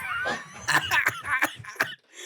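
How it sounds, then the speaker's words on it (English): Coughing close into a microphone, a series of sharp bursts in uneven rhythm with short gaps, loud and dry, alone without speech. "Stop coughing in the mic."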